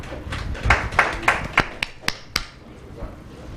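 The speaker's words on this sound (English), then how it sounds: "let's give them a round of applause" Scattered hand claps at a company annual general meeting of a property firm, a short run of about eight separate, fairly close claps that thin out and fade within a few seconds.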